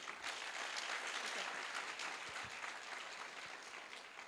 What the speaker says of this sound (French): je pense que ça peut s'applaudir